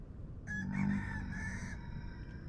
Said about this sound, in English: it's our uh, rooster.